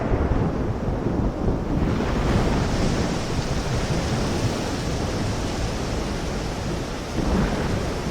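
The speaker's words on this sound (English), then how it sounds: "The thunder seems to urge the snake out of her hiding place to enter a new season of hunting." A thunderstorm with heavy rain in the Amazon jungle gives a steady, dense roar of rainfall with deep rumbling thunder swelling underneath, loud and continuous, with no voices.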